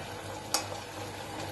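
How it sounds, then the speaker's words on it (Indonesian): Potatoes fry in hot oil for Moroccan potato cookies, a steady close sizzle with a couple of brief sharp clinks from a utensil. "Sekarang kita bakalan goreng kentangnya."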